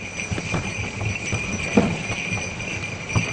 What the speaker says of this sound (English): One horse open sleigh.